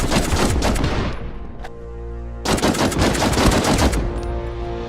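Rapid automatic carbine fire from a war video game: loud sustained bursts of rounds, a short pause with a ringing tail, then another long burst, close and dense with no voices.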